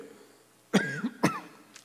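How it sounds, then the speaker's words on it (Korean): A man coughs twice in close succession during a church sermon, two sharp, close bursts in an otherwise quiet room. "저도 우리 목사님처럼 기관지가 약해가지고 가끔 콜록콜록해요"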